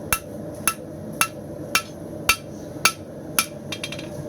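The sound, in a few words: hammer forging a knife from round steel bar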